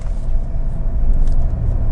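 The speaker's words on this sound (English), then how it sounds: "There we go, speed bump." A car rolling over a speed bump, heard from inside as a loud, continuous low road rumble and body thump with no talking.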